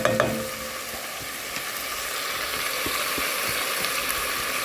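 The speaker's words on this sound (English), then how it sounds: "Listen to that sizzle." Sausage fries in a Dutch oven with a steady, even crackling sizzle throughout, moderately quiet, with a few scraping clicks from a utensil against the pan near the start and no one speaking.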